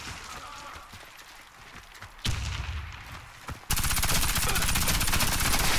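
A KRISS Super V submachine gun fires in Warface. Short bursts come first, then a long continuous high-rate stream of rapid shots that grows louder and closer.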